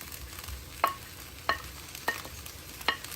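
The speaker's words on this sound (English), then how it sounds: "So this is the fried rice. It's cooking very well." Egg fried rice with mussels being stir-fried in a pan, four sharp scraping strokes at a steady pace over a quiet sizzle, close and fairly faint, with no talking.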